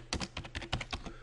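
Quick burst of typing on a computer keyboard, about a dozen crisp, close keystrokes in an uneven rhythm, with no voice over them.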